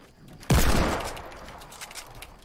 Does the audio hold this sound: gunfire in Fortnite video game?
yes